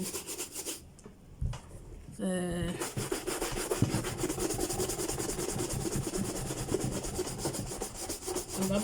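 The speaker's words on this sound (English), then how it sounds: "you see the shine coming onto the surface of the shoe just because I'm rubbing" A brush rubs rapidly back and forth over a leather shoe during polishing. The close, continuous scrubbing is steady and fairly loud and follows a brief pause near the start.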